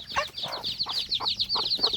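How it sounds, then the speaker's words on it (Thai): Chickens cluck repeatedly in short, rhythmic bursts, close by, with white chicks peeping high in the background. "ลูกไก่พันธุ์ลูกไก่ขาวตัวนี้"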